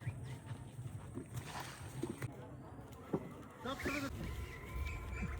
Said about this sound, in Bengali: ওরে দিয়ে হাঁস চলাচ্ছি